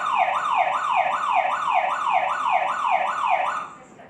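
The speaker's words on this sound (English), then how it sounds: "you're going to see the alarm's going to go off." A Staniot home security system alarm siren wails loudly and steadily, its rising and falling tone cycling about nine times before cutting off near the end.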